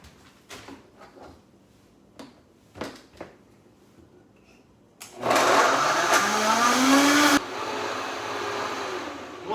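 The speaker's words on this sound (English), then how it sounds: "throw it onto our blender, give it a whirl" A few scattered knocks and clatters, then a blender roars loudly for a couple of seconds blending a beet and greens smoothie before dropping to a lower steady whir.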